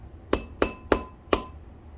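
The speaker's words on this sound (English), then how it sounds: "I'm going to be pounding with this hammer, and I'm just going to keep pounding it until it's exactly the right size" A metal hammer strikes a spoon ring on a mandrel four times, sharp ringing metallic taps spaced unevenly and close up, with no talking.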